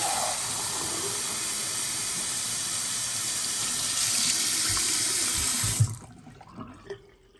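A sink faucet runs at full flow, filling a cup with a loud, steady hiss of rushing water that rises slightly before cutting off, followed by a few small clinks and drips.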